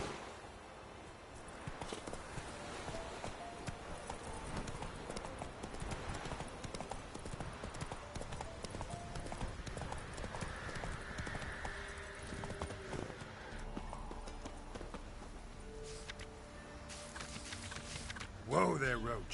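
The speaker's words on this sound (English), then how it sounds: "Whoa there, Roach." Rhythmic clip-clop of horse hooves on the ground in the Witcher 3 video game, steady and continuous at a walking or trotting pace, with a brief whinny-like burst near the end and game sounds underneath.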